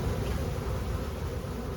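A swarm of honey bees drops down as a halo during a hive capture, giving a dense, continuous buzzing hum that is close and steady throughout the short moment, with no voices.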